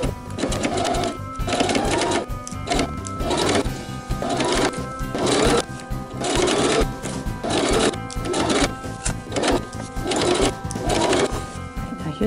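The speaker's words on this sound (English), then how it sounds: "So we're going to sew all the way around the bag in a quarter of an inch." A sewing machine stitches around a tote bag in a quarter-inch seam, whirring in rapid loud bursts separated by short pauses, close up with no talking.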